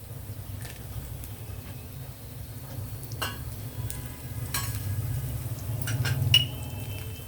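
Seasonings heating in hot oil in a pan, a steady low sizzle running throughout with occasional light clinks and stirring sounds, close and moderate in volume.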